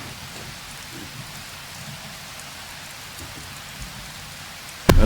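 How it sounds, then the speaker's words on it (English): Steady heavy rainstorm pours down outdoors in a constant wash of drops, with a brief louder burst at the very end. "Gotta wait out this rain."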